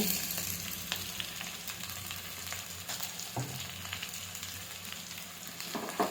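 Chopped cabbage frying in a pan over cooked onions for egg cabbage palya, a steady sizzle with a few sharp stirring clicks, fairly quiet and even throughout with no talking.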